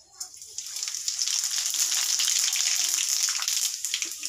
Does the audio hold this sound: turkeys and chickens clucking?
no